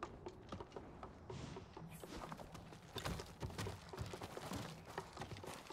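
Steady horse hooves clip-clop at a moderate pace in Ghost of Tsushima, fairly quiet and continuous against a soft ambient background with no talking.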